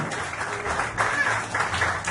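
Church congregation applauding during a worship service, a steady wash of dense clapping from a crowd at moderate distance, continuous throughout.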